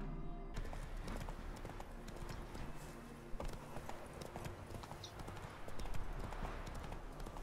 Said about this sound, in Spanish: el caballo cabalgando a dos patas